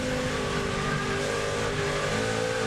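Onboard a NASCAR Nationwide Series race car at California in 2009, the engine roars steadily at high speed, loud and continuous with a constant drone and no voices.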